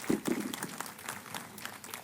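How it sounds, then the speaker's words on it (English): An audience claps at the close of a session: a few sharp opening claps, then steady, fairly quiet applause from a modest crowd that continues for a couple of seconds. "A big hand for the audience."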